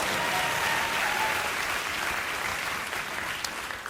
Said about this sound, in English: You can applaud, sure.